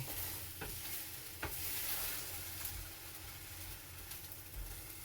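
An omelette with bacon sizzles loudly in a frying pan, a steady close crackle with a few sharper pops and no voices.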